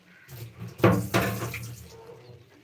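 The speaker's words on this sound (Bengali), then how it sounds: "এবার একটুখানি দাও তো জলটা একটু খোলো তো" Water gushes from a kitchen tap into a sink or pot, starting with a splash and then flowing steadily before fading, close by and alone.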